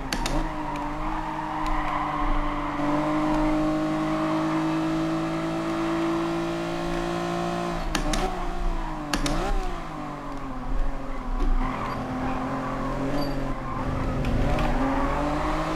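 Race car engines in the Gran Turismo Sport video game on PS5, a steady loud engine drone with gear shifts and pitch swoops, tire squeal near the end.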